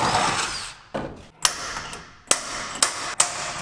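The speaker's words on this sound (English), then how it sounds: "A couple pilot holes and then just widen them out." A power drill bores pilot holes for mounts along a trailer, with a short whirring burst at the start. Several sharp knocks and clicks follow at irregular intervals, close and moderately loud.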